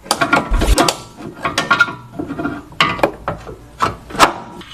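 Mechanical work under a car while a new lower control arm bushing is fitted: irregular scraping, rubbing, clunking and ratchet-like clicks in uneven bursts, close and fairly loud, with no speech.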